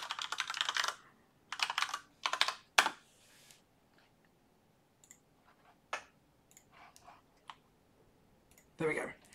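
Bursts of rapid clicking from a computer keyboard as a password is typed, in short clusters with pauses between them, fairly close, with some faint movement noises in between and no clear talk.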